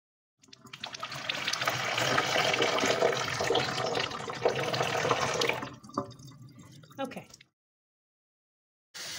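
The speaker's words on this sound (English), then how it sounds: "I'm going to pour water through again so you can see." Water poured through a countertop nugget ice maker drains out of its spout as a loud, steady splashing rush for several seconds, then trails off into a few drips and trickles before silence.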